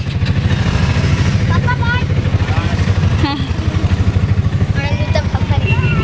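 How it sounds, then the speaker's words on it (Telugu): A motorcycle engine runs close by with a steady, pulsing low thrum as the bike pulls up, while people talk over it throughout. "మా వారైతే బైక్ వచ్చేస్తున్నారు"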